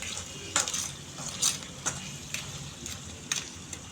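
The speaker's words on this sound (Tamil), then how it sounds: "போட்டு அப்படியே கிண்டி விட வேண்டியதான்." Tomato curry simmers in a pan as a metal spoon stirs it, producing a soft sizzle beneath several sharp clinks and scrapes against the pan at irregular intervals.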